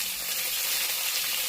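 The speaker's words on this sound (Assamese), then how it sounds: "প্ৰথমতে মাছটো কিছুমানে ভাজি ল'ব" Fish sizzles steadily in hot oil in a pan for a Bengali-style fish curry, a close, constant frying hiss with no talking.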